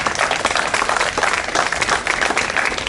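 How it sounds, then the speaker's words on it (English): An audience claps at a community gathering on justice, the applause a dense, steady patter of many hands that holds at an even level for the full three seconds. "For that, we can clap."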